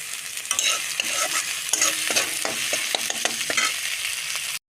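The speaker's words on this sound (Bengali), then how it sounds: "হালকা করে নাড়তে থাকবো" Moka fish with green chillies is stirred in a frying pan, with soft scraping strokes over a steady oil sizzle. The sound is close and alone, then cuts off abruptly.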